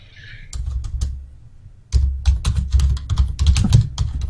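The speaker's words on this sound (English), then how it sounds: "You talk. I'm typing." Typing on a computer keyboard sounds close by: a few scattered clicks at first, then a faster, denser run of keystrokes with soft thumps, and no talk.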